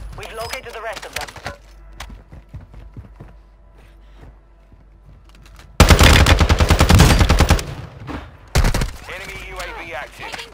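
Loud, rapid automatic gunfire in Warzone 2 on Ashika Island, two sustained bursts following a quieter stretch of game radio voices and ambient clatter.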